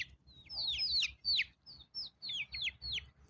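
Chickens cluck and chirp in a short run of bright, repeated calls close by, with brief pauses between bursts and no talk.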